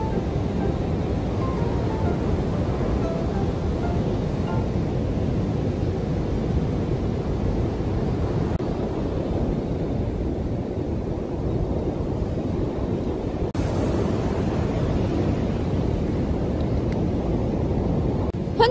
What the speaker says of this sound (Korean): 파도가 너무 세, 진짜.